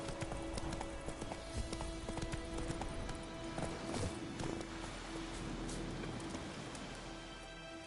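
Horse hooves clip-clopping steadily through rain in The Witcher 3, with a continuous wash of rainfall and occasional louder hoof strikes, moderately close, without talking.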